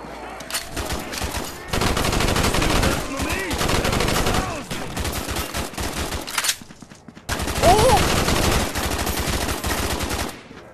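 Dense video-game gunfire in Contractors VR, a Nacht Der Untoten zombie survival mod, rattles as loud sustained bursts across most of the stretch, breaking off briefly near the end before another heavy volley.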